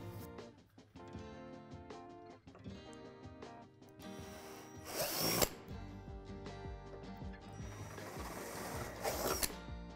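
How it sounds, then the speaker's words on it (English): A whirring power drill with a 3/8 bit runs in uneven bursts through a plastic playset barrier, its pitch shifting under load, with louder grinding surges as it bites into the plastic. "drill out a hole in the notch of the plastic barrier using a 3/8 drill bit"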